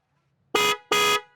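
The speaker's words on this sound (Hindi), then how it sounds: "तो ये हॉर्न है जो हमने क्रेटा वाला हॉर्न डलवाया है" Hyundai Creta car horn fitted on a Tata Punch, sounding two short loud honks in quick succession, close by with no other sound.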